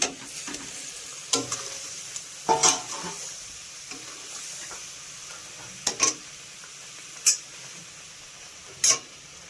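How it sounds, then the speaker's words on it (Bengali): Fried eggs and slit green chilies go into a simmering egg korma in a pan, with a low sizzle beneath several sharp clinks and scrapes of a spoon against the pan. "3টে চেরা কাঁচা লঙ্কা, এবার দিয়ে দেবো ভেজে রাখা ডিম"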